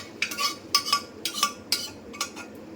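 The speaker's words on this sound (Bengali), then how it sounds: "এই দেখো দিয়ে একটু নাড়াচাড়া করে নিতে হবে।" Spoon clinks and scrapes against a metal pot while boiled urad dal and kidney beans are stirred, in five or six quick bright bursts of clatter with short pauses between.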